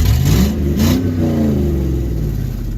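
A GMC truck engine revs up close and loud, the pitch climbing and easing through several throttle blips with a steady idle rumble underneath.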